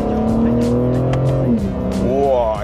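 A BMW M3 Competition drives hard under load with its engine note rising and falling, accompanied by a scatter of sharp exhaust pops.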